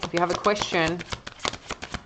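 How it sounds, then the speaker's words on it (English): Tarot cards are drawn and shuffled from a deck, giving soft papery flicks and taps under a woman's continuous speech. "I'm going to pull two cards."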